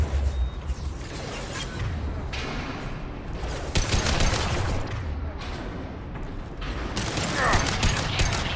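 Video game gunfire rattles in dense bursts and volleys over about eight seconds, mixed with mechanical clanks and thuds, loud and continuous throughout.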